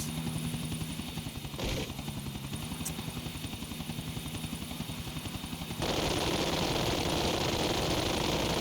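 A helicopter flies in GTA Vice City with a steady, rapid rotor chop and a constant engine drone that grows louder and denser partway through, with no talk.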